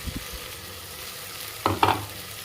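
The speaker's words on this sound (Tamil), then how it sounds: "எல்லாத்தையும் போட்டு அரைச்ச பேஸ்ட் வந்து ஆட் பண்ணிக்கிறோம்." Tomatoes fry with a ground mint and spice paste for vegetable biryani, a quiet sizzle with a couple of brief stirring scrapes and a soft knock at the start.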